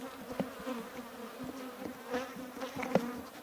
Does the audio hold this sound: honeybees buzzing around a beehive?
yes